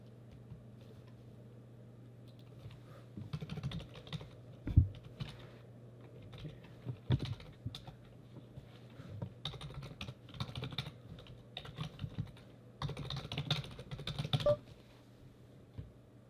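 Typing on a computer keyboard during an online poker session: soft key clicks come in irregular bursts and pauses over a low, steady background hum, quiet and close.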